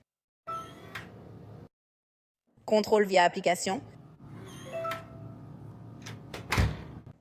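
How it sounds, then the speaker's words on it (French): A door fitted with a smart lock slams shut once near the end, a sharp, loud thud that follows stretches of speech and other household noises. "claquement de porte."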